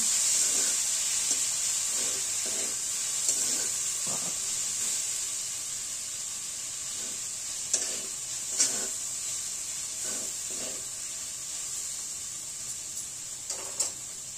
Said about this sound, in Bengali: 300 গ্রাম সাবু জল ঝরিয়ে রেখেছিলাম, সেগুলো আমরা এই কড়ার মধ্যে দিয়ে দেবো। এগুলো হালকা হাতে আমরা নেড়ে নেব।